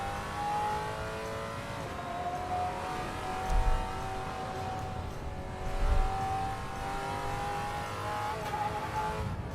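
Race car engine in Automobilista 2 holding a steady high drone through a corner, with faint tyre noise and a couple of low thumps from kerbs or bumps, alone and fairly quiet.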